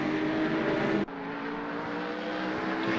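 Porsche 911 GT3 R race car engine in Assetto Corsa with a sound mod, a steady loud droning howl that briefly drops at a gear change before resuming at a constant pitch, with no talking.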